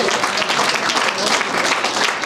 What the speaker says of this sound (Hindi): मैं चाहूँगा कि एक बार जरा तालियां भरपूर बजा दीजिए।